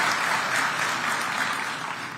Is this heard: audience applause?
yes